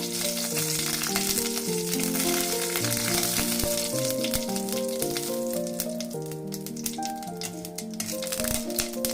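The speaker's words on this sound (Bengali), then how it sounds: "শুকনো লঙ্কা আর সর্ষে একটু নাড়াচাড়া করব।" A dried red chilli and black mustard seeds fry in hot oil for a radish chutney, with a steady close sizzle and crackle and light rattling as they are stirred in the pan, while music plays alongside.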